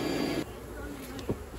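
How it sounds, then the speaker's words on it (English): Honey bees humming inside a hive close to the listener's head, a soft steady drone that swells briefly at the start and then settles low and continuous, with a faint tap near the end. "listen to the sound of bees gently humming 2 feet away from my head"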